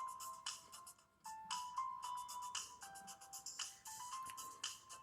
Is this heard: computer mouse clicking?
no